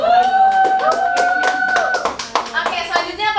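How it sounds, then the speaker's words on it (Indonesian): Hands clap in a classroom, a quick burst of sharp claps from a group of students over a teacher's sustained voice, with kids chattering as the clapping thins out. "Tepuk tangan dulu."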